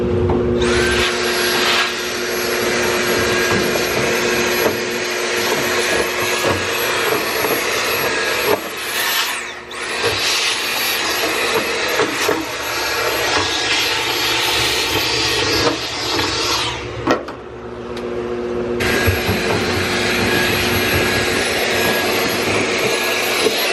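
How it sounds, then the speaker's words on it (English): A Dyson vacuum cleaner sucks years of dryer lint from a dryer, roaring loudly and steadily up close, with brief dips where the airflow chokes or the motor cuts out before resuming. "just to show you guys that the Dyson is actually empty, so now we're gonna give this a whirl"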